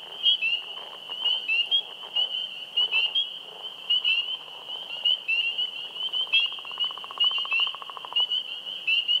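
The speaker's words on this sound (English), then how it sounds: "you can hear a leopard frog calling in the background" A northern leopard frog gives a low, pulsing, snore-like call in a Connecticut wetland, rising from behind a loud, continuous chorus of high, piercing spring peeper peeps.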